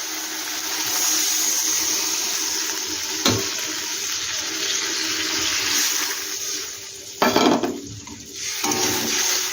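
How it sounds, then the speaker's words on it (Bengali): Water being poured into a pot of papaya curry, a loud continuous rushing splash close by, broken by a couple of brief knocks and a burst of splashing near the end, no voices. "এবার আমি জল দিয়ে দিচ্ছি"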